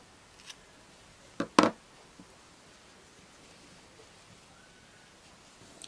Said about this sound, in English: we're just going to cut our yarn